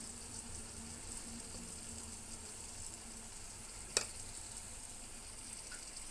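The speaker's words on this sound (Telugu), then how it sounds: "ఇప్పుడు వీటిని ఇలా కలుపుతూ మగ్గించుకోవాలి." Tomato, dal and brinjal frying in a pan give a steady, fairly quiet sizzle, with a single sharp clink of a spoon against the pan partway through as the mix is stirred.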